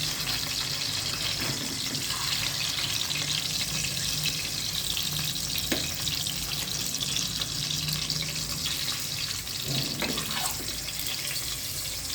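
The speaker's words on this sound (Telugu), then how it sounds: "ఇట్లా వేయించుకుంటే నీసు వాసన రాదండి కూర ఇట్లా వేయించుకుని పక్కన పెట్టుకోవాలి" Tomato and egg curry frying in a pan, a steady, close crackling sizzle running throughout with occasional faint stirring knocks.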